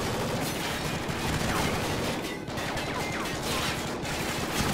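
Gunfire in the video game Call of Duty Ghosts, a dense continuous stream of shots and explosions filling the whole stretch, loud and busy with little pause.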